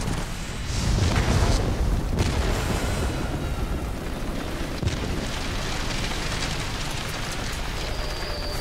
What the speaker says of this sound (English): I'm gonna rocket that. Hope it hits. Rocket that. Rocket those as well.